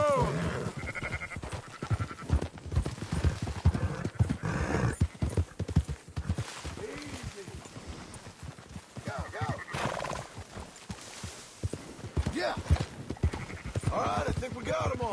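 Sheep bleat and horse hooves clop while herding in Red Dead Redemption 2, a scattered flock calling near and far over rhythmic hoofbeats, with a horse's whinny and voices talking between them.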